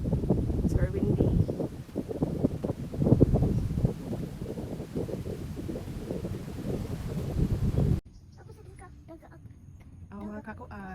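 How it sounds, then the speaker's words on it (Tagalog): Strong wind buffets the microphone outdoors on a foggy walk, a loud rumbling roar under a person talking, then it drops off sharply to a quieter background for the last few seconds. "It's very windy."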